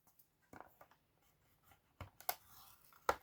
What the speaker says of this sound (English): You're gonna grab your scoring board or a ruler and some scoring tool, and you're gonna score